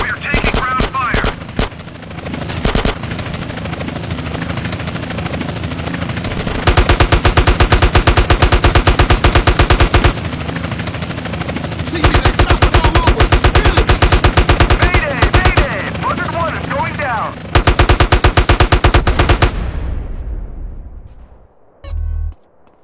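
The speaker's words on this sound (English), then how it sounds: "We are taking ground fire." Long bursts of rapid machine-gun fire in GTA San Andreas rattle repeatedly over a droning helicopter rotor, loud and close, then fade to near silence with one last thump.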